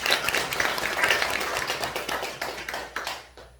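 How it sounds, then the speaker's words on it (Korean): A church congregation claps for the person who just read the Bible passage, a dense, steady round of applause that fills the room and tapers off near the end. "성경 읽으신 분 위해서 박수 한번 쳐주세요"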